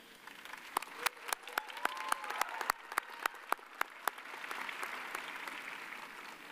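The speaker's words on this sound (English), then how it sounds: "Graduates, will you cheer for and recognize those in the audience who have helped you right now?" Graduates and a commencement crowd at a December college ceremony in Mississippi applaud. A few sharp, close hand claps ring out in a loose rhythm over a broad, steady wash of distant clapping and crowd noise.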